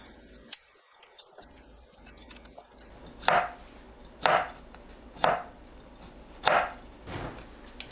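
A knife chops washed broccoli into bite-size pieces on a cutting board, giving five crisp, distinct thuds about a second apart over quiet kitchen background.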